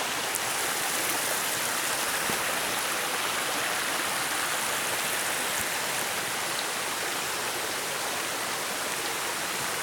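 The south branch of a brook rushes steadily toward a waterfall in sunlit hardwood forest, a continuous dense hiss of flowing water, close and unchanging with no voices.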